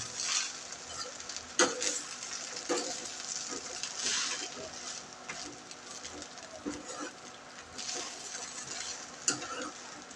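Rice and chapati breakfast stirred in a pan over low gas, with a steady frying sizzle and occasional scraping clinks of the spoon throughout, fairly close and moderately loud.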